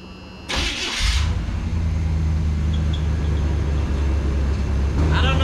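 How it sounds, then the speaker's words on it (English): The engine of an abandoned 1976 GMC Sierra pickup truck cranks briefly and catches, then settles into a deep, steady idling exhaust rumble close by. "She's got a little deeper rumble to her on the exhaust"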